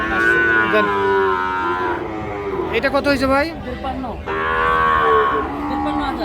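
Sahiwal bull calves at a cattle market moo loudly and close, in long drawn-out calls one after another, with a voice briefly speaking between them.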